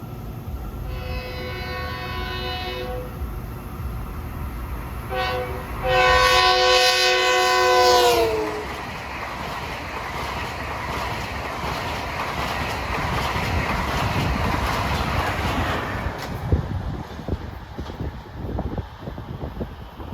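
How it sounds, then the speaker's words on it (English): A Long Island Rail Road train approaches the Carl's Path grade crossing in Deer Park, sounding two long horn blasts before its wheels rumble past loudly, the noise fading afterward. "gates are dropping at Carl's Path for train 1956, Penn Station to Ronkonkoma"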